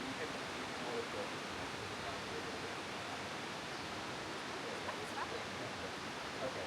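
Kuang Si Waterfall near Luang Prabang, Laos, rushing water heard as a steady, even broadband roar at moderate distance, unbroken and with no voices over it.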